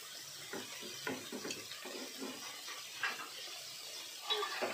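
Chopped vegetables for pav bhaji, including tomatoes and capsicum, are stirred in a pan, giving soft scraping and clinking strokes at an uneven pace, close but quiet.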